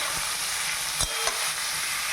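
Soybeans frying in a pan over medium heat for a coconut curry, a steady close crackling sizzle with a couple of distinct scraping stirs midway and no speech.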